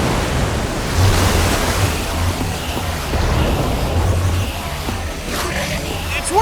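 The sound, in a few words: water gushing out in Minecraft Story Mode video game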